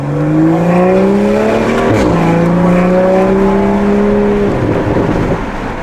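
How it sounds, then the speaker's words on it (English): A Toyota GR Supra A91 engine drones steadily with rising and falling pitch, carrying a raspy, puffing exhaust tone from an exhaust leak throughout. "it sounds like I have an exhaust leak."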